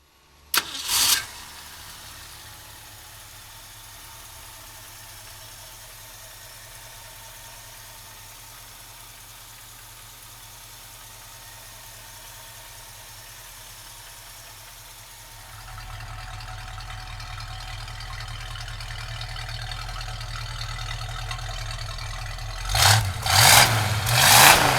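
A 1965 Ford Mustang convertible cranks and fires up with a sharp burst, settles into a steady low idle, then steps up to a louder idle before several throaty revs near the end.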